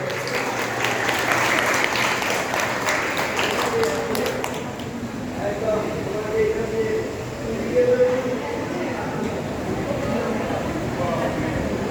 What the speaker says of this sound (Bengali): এদিকে চলে এসো হাততালি দেবে